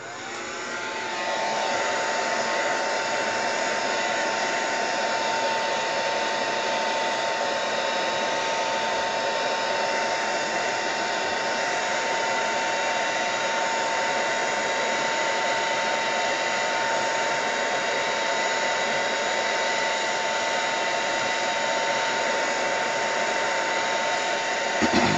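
A blow dryer runs steadily on a wet watercolor painting in a mixed-media art session, a loud continuous whooshing drone with a fixed whine that holds unbroken for about twenty-five seconds, alone with no talk.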